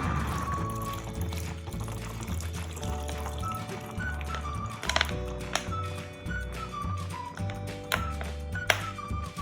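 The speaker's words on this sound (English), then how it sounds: "let the ORBEEZ fill it up." Orbeez water beads pour from an upturned bottle into a balloon, a soft, quiet trickling rattle over a steady musical backing, with a few sharper clicks.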